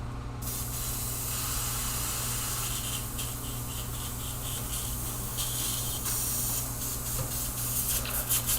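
An airbrush sprays Createx paint in a continuous close hiss, with brief dips and pulses as the trigger is worked, over a low steady hum.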